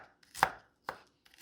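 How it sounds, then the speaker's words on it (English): A knife chops garlic on a cutting board in a kitchen: two sharp, close, isolated thwacks with a light tap between, otherwise quiet and without talk. "I'm going to start my prep by chopping up some garlic."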